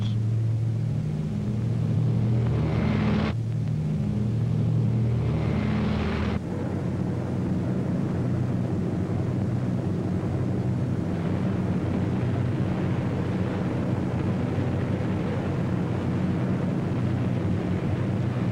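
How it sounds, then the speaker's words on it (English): Heavy droning engines of WWII RAF bombers on archival film, a dense continuous low roar with rumbling bursts, loud and steady throughout with no voices. "In June, Hitler's fortress Europe rocked under the terrific pounding of RAF bombers."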